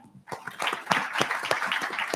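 A crowd at a formal World Food Day event claps in a full round of applause, dense and continuous, starting abruptly and holding steady.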